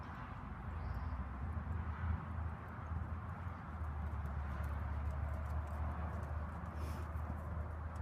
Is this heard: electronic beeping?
no